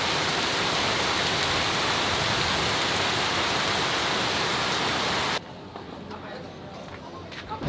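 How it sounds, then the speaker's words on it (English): Steady rain pours in Kuala Lumpur, Malaysia, a dense loud hiss close by that cuts to a softer, duller patter for the last couple of seconds. "it ended up raining every single night for the last 3 nights"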